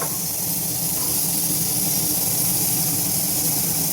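Food fries in hot peanut oil in a pan with a steady, loud, broadband sizzle that holds without a break, with no voices over it.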